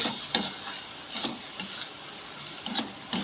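A spoon stirs pointed gourd paste in a hot frying pan, giving soft, irregular scraping strokes over a faint sizzle, close and quiet with no talk.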